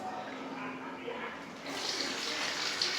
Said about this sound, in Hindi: एक डब्बा हम इसमें सिर्फ भर के पानी का डालेंगे और इसको बॉयल करेंगे।